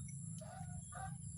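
Geese let loose on a rural property give short, nasal honking calls at close range over a low background rumble.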